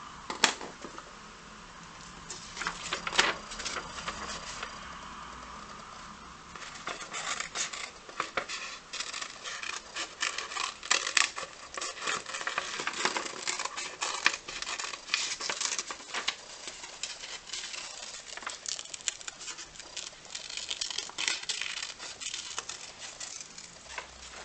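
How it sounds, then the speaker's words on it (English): Scissors snip out a large paper shape for a magazine cover collage, producing a steady run of small crisp cuts and rustles, close and fairly quiet, with no talking. "I'm going to cut it out as one big shape, leaving the white edges around it"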